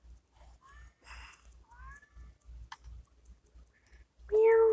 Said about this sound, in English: Can you hear their little meows?